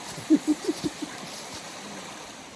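Water in a creek flows in a soft, continuous trickle, with a few brief splashes or gurgles near the start.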